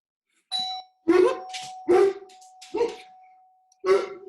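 A dog barks four times in loud, close bursts, with a doorbell chime ringing underneath at the start.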